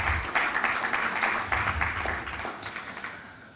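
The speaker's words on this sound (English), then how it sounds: "a round of applause for Temai" Applause from a conference audience, a sustained patter of many hands clapping close by with rhythmic bursts that gradually thin and taper off toward the end.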